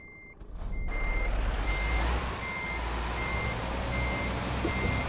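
A truck in Euro Truck Simulator 2 backs up, with a loud low engine rumble under a regular series of evenly spaced reversing beeps and a brief hiss near the start.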